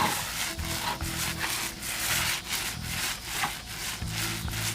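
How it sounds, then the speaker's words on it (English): A speaker panel scrubbed by hand to clean off spilled paint, steady back-and-forth rubbing strokes, close and fairly quiet, with a low hum underneath and no speech. "Let's get this panel and I'll try to clean it off."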